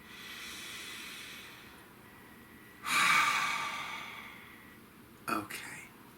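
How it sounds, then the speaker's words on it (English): A deep breath drawn in near the microphone, a broad airy inhale that swells for about a second before fading, with a short breathy burst following soon after. "Please take a deep breath."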